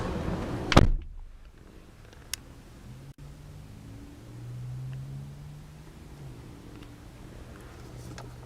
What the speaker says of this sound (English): Doors have a nice soft close to them as well.